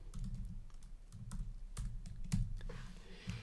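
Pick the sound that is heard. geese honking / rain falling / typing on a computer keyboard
typing on a computer keyboard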